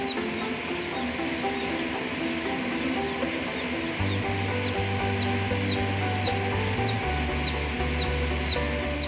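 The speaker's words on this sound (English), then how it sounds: "Watch as the chicks hatch." Many newly hatching chicks cheep in rapid, overlapping high chirps inside a commercial chicken hatchery, over a steady mechanical hum of incubator and ventilation equipment.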